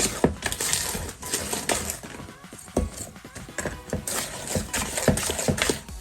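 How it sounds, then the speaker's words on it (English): Sugar granules scrape against a mixing bowl while peanut butter cookie dough is mixed, giving a close, gritty, rasping noise with irregular clicks and knocks throughout. "You can just hear all that the sugar granules, just scrape it against that bowl."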